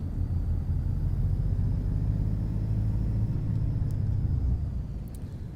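A Volvo F88 truck engine in Euro Truck Simulator 2 drones in a steady, deep rumble, loud and close, easing slightly toward the end with a few faint clicks; no talking.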